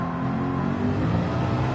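Nissan R92CP race car engine in a racing video game at Sarthe, a steady loud engine drone with a few revving shifts as it slows and drops down through the gears, heard alone with no talk.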